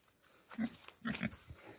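Herd of young pigs running into their barn, with a few short grunting, snuffling calls in separate bursts, fairly close and quiet.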